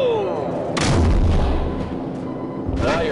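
Heavy cannon fire from an air support gunship in Call of Duty 4: Modern Warfare, with two loud booming blasts about two seconds apart and rumbling decay in between.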